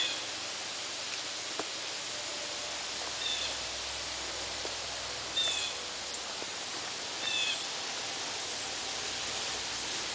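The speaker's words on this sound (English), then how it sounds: "The bird sounds are so pretty this morning." A few short, high bird chirps ring out at intervals over a quiet outdoor hiss, fairly faint and distant.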